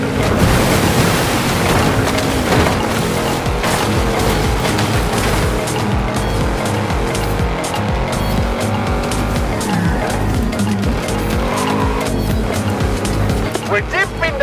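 A car in Forza Horizon 5 fords a river in a Mexican jungle, its engine roaring loudly and steadily as water rushes and splashes around it, with a musical game soundtrack running underneath.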